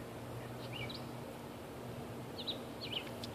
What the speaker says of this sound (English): I think he's a red-headed woodpecker.